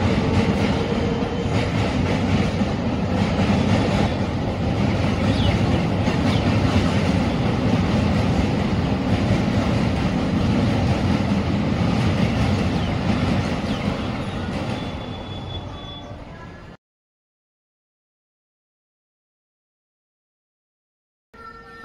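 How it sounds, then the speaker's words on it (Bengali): A train passing near a rooftop rumbles and clatters loudly and steadily for about seventeen seconds before cutting to silence, with no voices. "ওই যে চলে যাচ্ছে বাবা মা, ওই ট্রেনটায় চলে যাচ্ছে ওরা"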